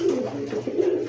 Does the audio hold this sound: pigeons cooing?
yes